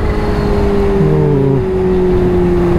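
A Kawasaki Ninja H2 supercharged superbike accelerates hard in a drag race, a loud steady engine drone with rising and shifting tones, close and continuous with no talking.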